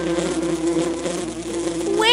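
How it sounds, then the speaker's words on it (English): Cartoon bees buzzing inside a cake, a steady close droning hum over background music. "those are bees!"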